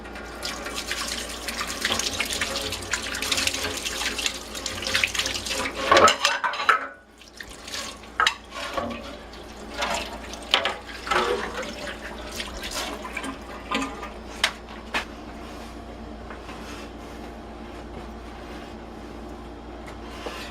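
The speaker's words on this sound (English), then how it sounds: "Wash my hands." A kitchen tap runs as hands are washed after rubbing spices into pork, with splashing and clinks at first, then a quieter steady stream with scattered knocks and drips.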